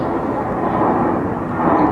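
A fixed-wing airplane passing overhead near Kempton Park, a loud steady engine roar filling the whole clip with no clear talk over it.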